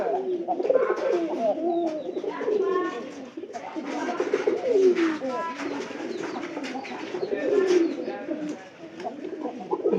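White pigeons coo repeatedly in soft, rolling phrases close by, with someone talking in between and over the calls.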